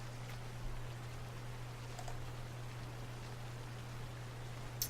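Soft, steady rain patters in a constant hiss behind a low electrical hum, faint and even from start to finish with a few brief clicks.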